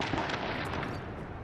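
An explosion in The Division's PvP mode booms as a muffled, distant, broadband rumble that holds steady and fairly faint through the moment.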